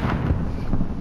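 A frag grenade goes off in a Modern Warfare Hardcore Domination match: a loud, brief, deep booming rumble that fills the whole moment.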